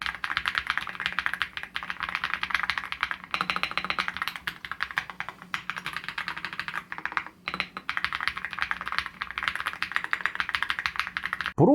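Continuous, brisk typing on a Proove Gaming Coupe mechanical keyboard, with dense clicky keystrokes at a steady pace for about twelve seconds and no talking.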